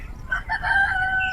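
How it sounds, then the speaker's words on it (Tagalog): Pet chickens and a rooster on a rural Philippine farm, with one clear crow rising and holding near and loud alongside some soft clucking, no talk. "Pakarami kong alagang manok."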